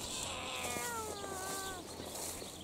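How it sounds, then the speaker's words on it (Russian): Two neighbourhood cats face off over territory outdoors, letting out drawn-out, wavering yowls and caterwauls that rise and fall in pitch over a couple of seconds against steady background noise. "Там два соседских кота встретились между собой. Не могут территорию поделить."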